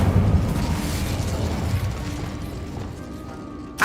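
A fire spell cast in the Hogwarts Legacy video game bursts out in a loud whooshing blast that trails off into a roaring fade, then a sharp crackle strikes at the very end.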